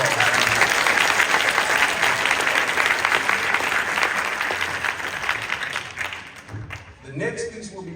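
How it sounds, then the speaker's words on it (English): Loud, sustained clapping from a concert audience at a spring band concert, dense and continuous for several seconds before thinning out and fading near the end. "Give him a round of applause."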